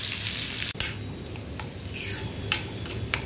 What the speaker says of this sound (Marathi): तेल तापलं आहे, यामध्ये आपण पाव चमचा जिरं घालूया। जिरं चांगलं फुलायला लागलं का त्यामध्ये आपण कांदा आणि हिरवी मिरची घालून घेऊया।